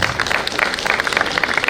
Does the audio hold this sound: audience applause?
yes